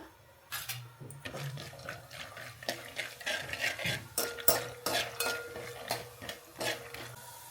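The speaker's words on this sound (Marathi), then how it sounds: "त्यानंतर मी घेणार आहे अर्धा कप पिस्ता पिस्ता पण आपण थोडासा तुपामध्ये फ्राय करून घेऊया" Half a cup of pistachios stirred in hot ghee in a pot, giving repeated scraping and clinking strokes of a spoon against metal with a soft sizzle underneath, close and moderately loud, no voices.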